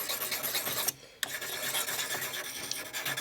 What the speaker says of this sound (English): Alright, that knife sucks. Time for a quick resharpening again.